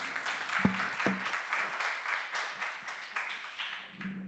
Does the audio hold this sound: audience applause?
yes